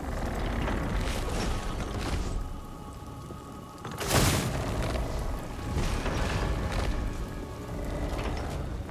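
Noctilus Dreadfleet fires its guns in Total War: Warhammer 2, a dense, rumbling barrage of booms under a constant battle din, with one sharp, louder blast standing out in the middle.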